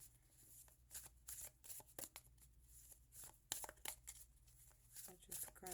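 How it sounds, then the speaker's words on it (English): Oracle card deck being shuffled by hand up close, a run of quick papery riffles and slaps in uneven bursts over a low steady hum, with a voice speaking now and then. "So I'm gonna just do a little shuffle here."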